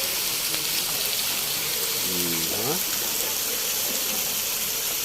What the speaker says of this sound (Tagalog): Mga talon pala no?